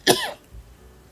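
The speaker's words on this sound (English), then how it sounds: "this chronic cough has decided to be more than chronic" One sharp, raspy cough up close, fading quickly into a quiet room with a faint low thump afterward.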